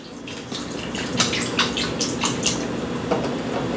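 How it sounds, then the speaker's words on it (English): Beef broth poured into a pot of lamb stew, a steady close splashing stream of liquid with small bursts and drips running throughout, no voices. "we coming right behind it with a little bit of beef broth"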